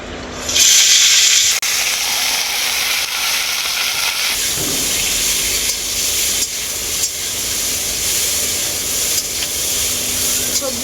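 Cauliflower, potato, carrot, long beans and peas fry in a pan for a khichuri dish, a loud, steady hiss and sizzle with occasional stirring, while someone talks over it.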